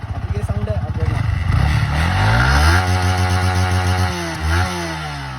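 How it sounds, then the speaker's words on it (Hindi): A Yamaha MT15 motorcycle engine revs up close, climbing from a lumpy idle into a sustained high, rising rev, then dipping and picking up again, loud and alone. "तो गाइस अब ये साउंड है,"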